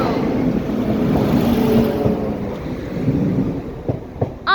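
Northern Rail class 195 unit 195080 on the Lincoln to Sheffield service passes Shireoaks level crossing in Nottinghamshire: a steady, loud broadband rumble with wind buffeting the microphone, easing off toward the end with a few sharp knocks.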